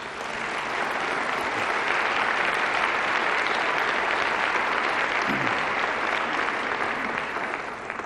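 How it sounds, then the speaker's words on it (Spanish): Audience applause at a communications summit: sustained, even clapping from a large crowd, steady and fairly loud throughout, with no talk over it. "Pido un aplauso, por favor."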